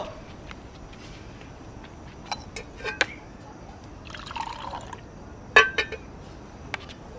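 Water pours briefly into a glass in a domestic movie scene, a short splashing fill surrounded by scattered glassy clinks and drips, with faint voices and room noise underneath.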